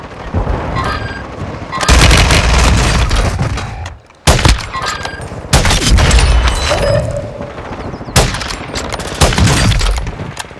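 Missile strike explosions in Call of Duty, heavy booming blasts and crackling gunfire in loud, dense bursts with a short break in between, close and dominating.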